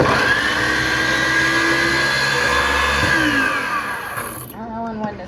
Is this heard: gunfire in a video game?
no